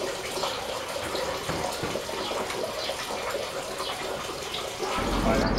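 Fresh water runs steadily from a tap or fountain on a hot day along a cycling route to Santiago, a continuous splashing hiss that swells louder near the end.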